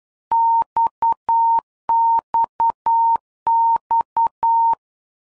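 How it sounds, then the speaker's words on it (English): A steady electronic beep tone keys out the Morse letter X three times as an aviation urgency signal, in crisp long-short-short-long groups separated by short pauses. "The sound signals are Morse code"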